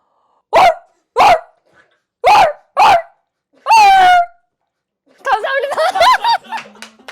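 A voice imitates a country dog barking, giving four sharp separate woofs, then a longer drawn-out howl, followed by a burst of yippy, growly yelps, loud and close with short silences between.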